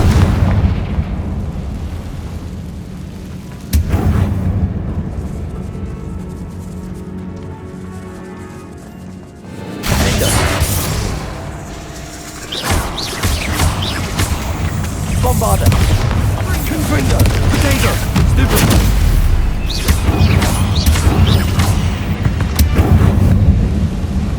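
Bombarda and Confringo spells fired in Hogwarts Legacy set off heavy, booming explosions. A sharp blast gives way to a brief quieter stretch, then louder rolling detonations and crackling debris continue to the end, with a voice speaking among them.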